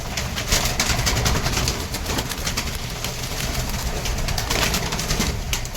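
Pigeons coo steadily and close by inside a loft that holds homing pigeons, with fluttering and light shuffling running throughout and a faint engine hum underneath.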